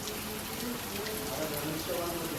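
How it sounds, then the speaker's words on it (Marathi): Rain falls in a steady, even hiss that lasts throughout, with soft patter on surfaces at moderate distance and no clear voices. "पाऊस पाऊस पाऊस."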